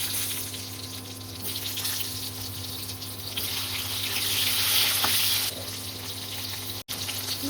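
Potatoes frying in hot oil with cumin seeds, in the same oil just used to fry tangra fish for a home-cooked fish curry: a steady, dense sizzling hiss that holds at an even level throughout, with no voices.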